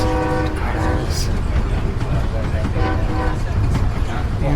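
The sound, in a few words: Amtrak Borealis train horn trills while passing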